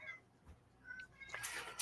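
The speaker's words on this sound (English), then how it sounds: "Okay, here goes the cats." A cat gives a short, faint meow and a second cry near the end, rising out of quiet background noise in an indoor setting.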